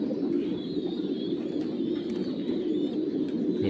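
Young pigeons (squabs) on a farm coo in a steady, overlapping low murmur, several birds close by with soft chirps now and then above the constant cooing.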